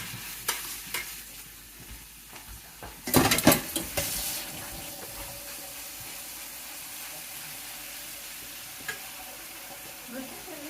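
Meat lands in a hot pan with a sudden loud burst of sizzling and clatter, which then settles into a quieter continuous frying hiss with occasional utensil clinks.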